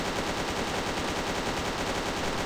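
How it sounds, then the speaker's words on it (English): A boss fires a machine gun in the video game Rock Zombie: a dense, continuous stream of rapid shots, loud and unbroken for the whole stretch. "we're supposed to stand behind pillars while this guy fires his machine gun"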